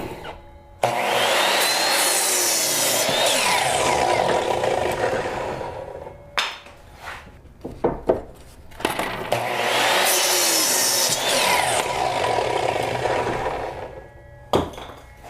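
A power saw slices mitered wood trim for a raised garden bed in two loud, close roaring cuts of several seconds each, separated by a pause with knocks and handling of the boards.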